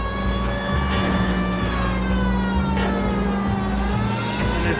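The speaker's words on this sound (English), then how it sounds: "Turns on the siren." A 1940s-style Los Angeles police car siren in L.A. Noire wails loudly and steadily over engine noise, a sustained rising-and-falling tone running throughout without talk.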